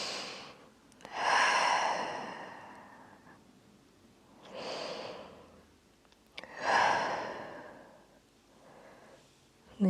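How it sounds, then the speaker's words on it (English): Slow, deep breaths during a yin yoga session for the glutes and groin, two long airy inhales and exhales close to the mic, with quiet gaps between them. "Take 2 deep breaths here."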